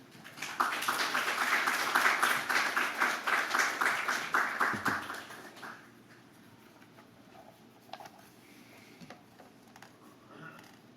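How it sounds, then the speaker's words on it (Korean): A church congregation applauds to welcome missionaries, a dense burst of clapping from many hands that rises, holds for several seconds, then quickly dies away into quiet room noise. "우리 선교사님 나오실 때에 우리 박수로 환영하겠습니다"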